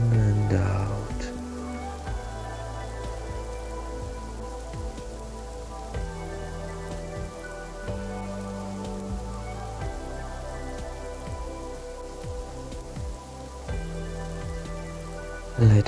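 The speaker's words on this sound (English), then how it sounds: "Let us enjoy this meditation under the beautiful sounds of rain." Steady rain patters continuously at an even level throughout. It is layered under soft, sustained meditation music.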